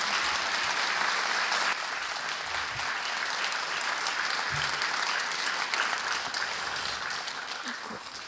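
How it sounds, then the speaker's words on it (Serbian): Loud, sustained applause from an audience fills the hall at a centenary ceremony for the Dositej Obradović national library in Novi Pazar, dense steady clapping honoring the library staff for about eight seconds. "Molim vas još jedan veliki aplauz za ovaj sjajan kolektiv."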